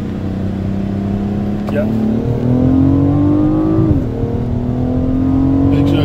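A BMW M760Li with a V12 engine pulls from a 40 mph rolling start, its engine note rising steadily in pitch and loudness over several seconds before easing briefly at a shift, heard from inside the cabin while a voice briefly speaks.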